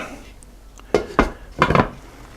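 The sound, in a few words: stirring chicken and dumplings in a pot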